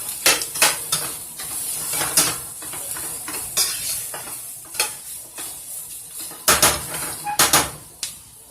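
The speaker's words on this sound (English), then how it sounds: "So we're gonna let that fry off for about 2 minutes" Strained ground meat, about two pounds, fries in a pan for steak quesadilla tacos, with repeated bright clinks and scrapes of a utensil stirring against the metal over a steady low sizzle, close and fairly loud.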